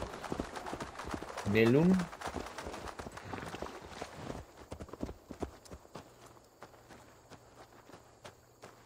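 Horse hooves clip-clopping at a steady walking pace in the video game Assassin's Creed Valhalla, a rhythmic run of close hoof falls under game ambience and a brief spoken word from a character.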